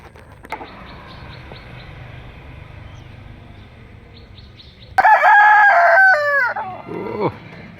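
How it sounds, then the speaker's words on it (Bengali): A rooster crows loudly and close by on a farmhouse homestead, one long rising-and-falling call following a quieter stretch of faint clucking and bird chirps. "মুরগির ডাকে ঘুম ভেঙে যায়"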